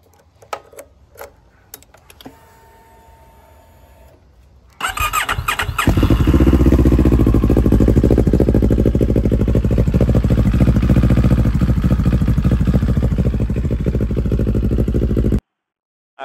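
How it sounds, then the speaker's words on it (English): A CFMoto CL-X 700 motorcycle with an aftermarket exhaust cranks and fires up, then roars loudly and steadily with a raspy, throaty exhaust note before cutting off abruptly. "first ride with the new exhaust"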